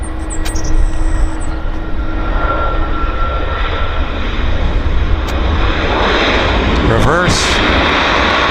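A jet airliner landing at Vancouver Airport, a loud continuous engine roar with rising whine and reverse-thrust rumble, birds chirping faintly in the background.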